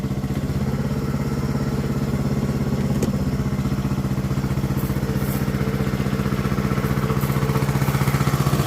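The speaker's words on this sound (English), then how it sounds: "Listen to the sound of the engine change." A backup generator engine in an off-grid solar setup runs steadily and loud throughout, a continuous rattling drone with an even rhythm and no voices.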